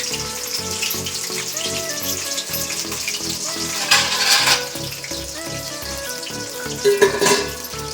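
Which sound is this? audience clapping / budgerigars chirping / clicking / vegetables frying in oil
vegetables frying in oil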